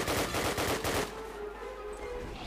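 Rapid automatic gunfire in Call of Duty, a fast close burst of shots for about a second that stops abruptly, leaving a lingering low hum.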